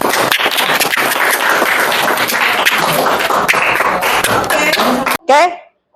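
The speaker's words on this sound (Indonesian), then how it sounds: "Oke, tepuk tangan untuk Fadil." Classroom applause for a student named Fadil during an Islamic religious education lesson, dense continuous clapping from a group that cuts off abruptly near the end, followed by a brief voice.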